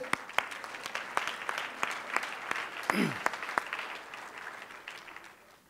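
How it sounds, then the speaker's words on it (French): A church congregation applauds Pastor Claude with a thin scatter of claps at a moderate distance, fairly faint, while a voice clears its throat and a brief sliding tone cuts through midway. "est-ce qu'on peut l'applaudir, s'il te plaît?"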